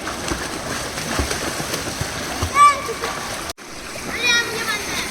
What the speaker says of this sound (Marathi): आरू स्वराला स्विमिंग करायला शिकव